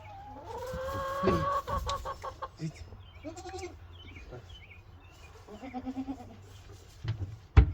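Goats bleat several times, with wavering calls close by between rustling and a few thumps during a pasture move; bird clucks sound faintly in the background.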